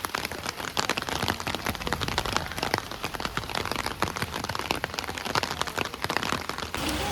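Heavy rain falling in Sa Pa, a dense, steady hiss of drops drumming on surfaces that fills the whole stretch at an even, loud level with no voices.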